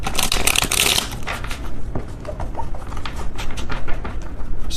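A small tarot card deck is shuffled by hand in a burst of crisp, papery riffling and flicking, then continues as softer, irregular card slides and taps. Close and fairly loud, with no talking.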